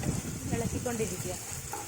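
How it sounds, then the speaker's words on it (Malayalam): Bitter gourd stir-frying in a pan over a high flame gives a steady, close hiss and sizzle with soft stirring movement throughout the short stretch. "കുറച്ച് സമയം നമ്മൾ ഫുൾ ഫ്ലെയിമിൽ തന്നെ ഇട്ട് വരട്ടുക."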